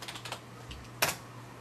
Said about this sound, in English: now we're going to type in exit and hit enter